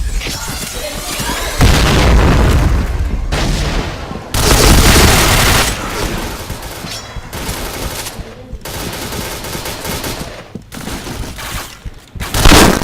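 Grenade blasts and bursts of automatic gunfire in the Point Blank shooter game, loud and dense with booming explosions and rapid rattling volleys, ending in a final heavy boom.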